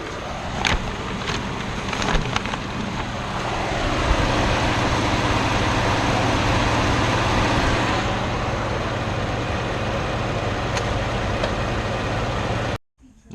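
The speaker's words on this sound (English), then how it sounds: "The engine is idling." A 2016 Ford F150 EcoBoost engine idling during an oil change, a steady low rumble holding evenly for over ten seconds, with a few light clicks and taps at the start and a brief cutout at the end.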